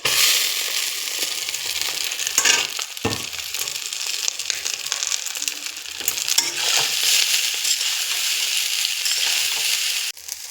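Pasta is stir-fried with eggs in a pan, giving a continuous sizzle with scraping stirring bursts and occasional clinks, then an abrupt cut near the end; no talk is heard.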